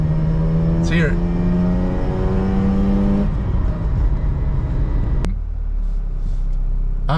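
A 2008 rotary-engine car revs up close and loud, its rising harmonic whine climbing before dropping back to a steady idle rumble, with a sharp click near the end.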